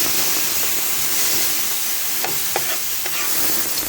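Garlic and chili peppers fry in a pan for a vegetable shrimp stir-fry noodle dish, giving a loud, close, continuous hissing sizzle with a few sharp pops and light stirring clatter, no voices.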